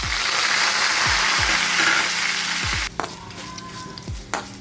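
Dried red chillies and curry leaves crackle and spit in hot oil, a loud, dense sizzle with a few sharp pops, then dropping to a quieter fry with scattered crackles and a brief stir.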